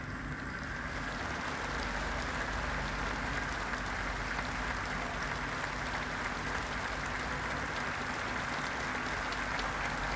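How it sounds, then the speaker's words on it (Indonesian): Sustained audience applause for Prabowo, president-elect, at an inauguration ceremony: a dense, even wash of clapping from a large crowd, steady and continuous throughout at moderate distance. "memberikan tepuk tangan untuk Prabowo, presiden terpilih ya tadi"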